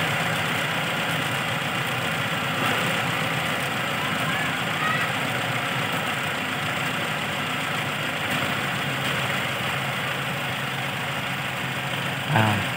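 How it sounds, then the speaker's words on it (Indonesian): A Toyota Kijang Super engine with a freshly adjusted carburetor idles steadily and evenly, a loud, constant mechanical drone that keeps the same pitch throughout. "Ini udah rata mesinnya. Rata, tidak goyang mesinnya."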